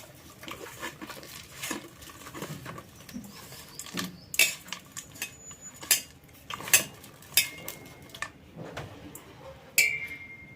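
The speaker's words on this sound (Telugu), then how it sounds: "అన్నీ వేసేసాను కదా, ఒకసారి ఇలా మొత్తం కలుపుకోండి" A spoon scrapes and clinks against a pot while chicken biryani marinade with spices and garam masala is stirred, giving scattered irregular taps and clatters over a quiet background.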